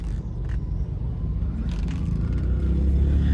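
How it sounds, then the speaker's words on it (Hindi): A car is driven slowly and pulled in to park beside a hardware shop, its low engine rumble steady and close and growing slightly louder, with light scraping noises and no talk. "ये इधर लगाते हैं गाड़ी"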